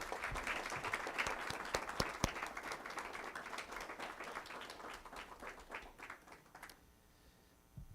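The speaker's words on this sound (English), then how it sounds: "So round of applause for these students." A school board meeting audience applauds students being recognized, a steady wash of many hands clapping for about seven seconds before fading out.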